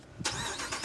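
Ram Power Wagon truck with a Magnaflow cat-back exhaust starting up, a short crank followed by a sudden loud engine catch that settles into a deep, steady rumble.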